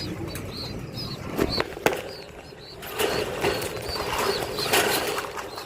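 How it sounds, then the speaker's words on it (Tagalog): Hungry pigeons feed in a loft, giving scattered pecking clicks, rustling and soft coos with occasional wing flutters, all at a moderate level against a busy background and with no talking. "Dapat ganyan kalalakas kumain yung mga ibon"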